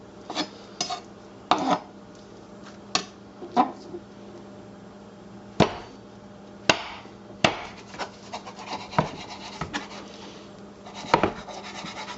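A cleaver chops through chicken on a board for Cantonese soup, giving sharp irregular thuds, a dozen or so spaced hits with short pauses between, fairly close and alone without talk.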